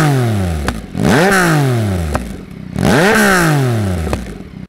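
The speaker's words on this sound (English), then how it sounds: "the sound of an inline triple with a full exhaust" Loud inline-triple motorcycle engine with a full exhaust revving twice, the pitch climbing and falling with each throttle blip, a deep throaty exhaust note close by.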